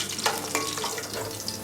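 Cumin seeds sizzle and crackle in hot oil in a pan, a short, close, steady frying hiss with small pops.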